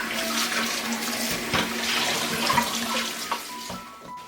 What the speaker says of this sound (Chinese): 然后再用清水多冲洗几遍